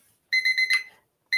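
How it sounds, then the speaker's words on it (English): A kitchen timer alarm rings in four quick electronic beeps, pauses briefly, then sounds one more beep, loud and close with no talking. "That is my timer."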